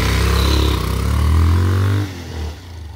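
A motorcycle engine revs loudly up close, holding a strong low rumble before dropping off abruptly to a quieter idle with a brief blip; no one speaks.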